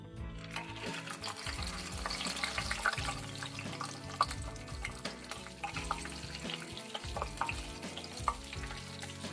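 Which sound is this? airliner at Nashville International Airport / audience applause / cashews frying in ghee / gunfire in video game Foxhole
cashews frying in ghee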